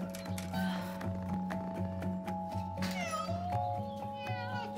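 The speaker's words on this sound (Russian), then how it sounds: "Глупая кошка." A cat meows several times in a row over a steady background hum, close and clear.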